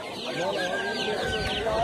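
At a poultry market selling young chicks and hens, chickens cluck and chirp continuously and close by, in a busy overlapping chorus.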